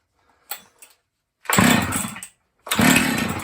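An old Husqvarna 268 chainsaw is pulled over with the choke on. After a couple of faint pull sounds it coughs into two loud, close bursts of engine roar, the second catching and running on.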